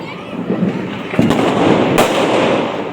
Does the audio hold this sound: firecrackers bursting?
yes